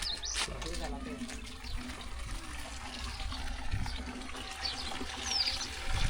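Water from a village hand pump pours steadily into a container outdoors, a continuous splashing trickle heard fairly close, with faint voices in the background.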